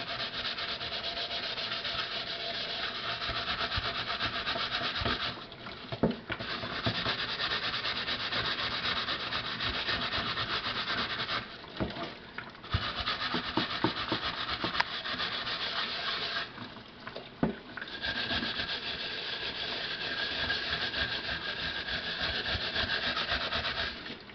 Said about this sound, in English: Scrub the heck out of it.